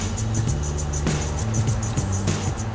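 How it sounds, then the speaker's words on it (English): Mercedes-AMG GLC 43 Coupe exhaust on an expressway during downshifts, a steady loud engine drone with rhythmic low pulses and sharp crackling pops at regular intervals. "you just downshift and hear that exhaust note crack and pop"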